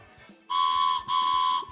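Two sustained shrill whistle blasts in quick succession, loud and near, each lasting roughly half a second with a short break between, over a quiet low background.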